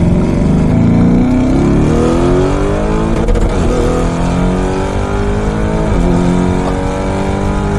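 A Novitec-tuned Lamborghini Urus with over 1,000 newton meters of torque accelerates hard, a loud, continuous engine roar rising steadily in pitch through the gears and heard from inside the car.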